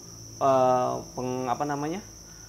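Crickets on an Indonesian cricket-breeding farm chirp in loud, close harmonic trills, one long call followed by a few shorter stuttering bursts over a steady high background hum.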